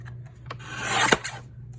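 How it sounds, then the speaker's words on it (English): Blade or scissors cutting through craft card to make 1 inch strips, a short dry rasping stroke that swells to a louder scrape near the middle, close and alone over a low steady hum. "now I'm going to cut 1 inch strips"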